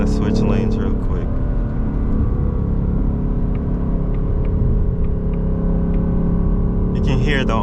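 A 2024 Ford Mustang Dark Horse cruises at speed while changing lanes, its engine and road noise a loud, steady close drone with brief revving swells near the start and end.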